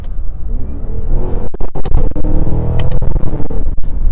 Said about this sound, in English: you hear the pops and cracks in the back